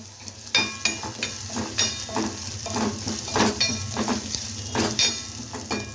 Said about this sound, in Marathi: लाल तिखट टाकलेलं आहे आणि लाल तिखटला पण आपण परतवायचं आहे